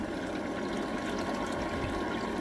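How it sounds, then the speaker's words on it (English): Water leaking from a seal and off a corner of a homemade miller table, a steady wet trickle and splatter running continuously under a constant low hum, with no voices. "We've got a couple of leaks. It's dripping from this seal and off that corner."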